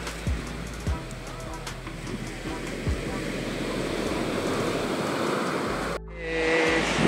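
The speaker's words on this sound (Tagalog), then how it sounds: "Pero malakas ang alon." Heavy sea surf roars steadily with crashing waves and wind buffeting the microphone at Dingalan, ending abruptly with a brief different sound.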